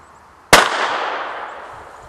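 An Ohshiboom smoke impact grenade for airsoft goes off with one sharp, loud bang outdoors, followed by a long hissing, rushing decay that fades over more than a second, with no voices.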